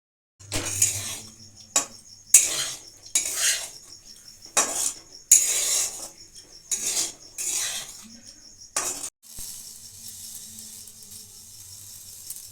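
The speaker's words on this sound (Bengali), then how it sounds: "এই বিনসটা একটু চালের সঙ্গে ভেজে নেব" Green beans frying with rice in a pan for a colourful pulao, with repeated metal utensil scrapes and clinks against the pan in bursts, fairly close, followed by a steady hiss near the end; no talking.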